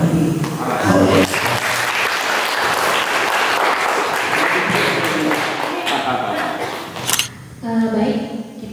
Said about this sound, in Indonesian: kita beri tepuk tangan sekali lagi untuk pembawakan baik Bapak Ibu